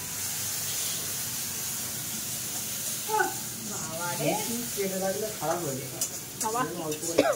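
Food sizzling and frying in a pan during home cooking of doi katla kalia, a steady soft hiss running under several people chatting nearby.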